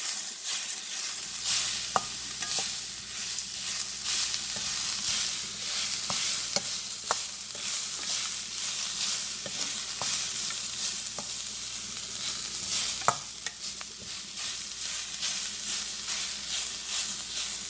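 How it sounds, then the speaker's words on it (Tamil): Raw garlic fries in a pan with a constant bright sizzle while a spoon stirs it, adding scattered light clicks and scrapes throughout. "பச்சை வாசம் போக மட்டும் நல்லா கிண்டி விடுவோம்"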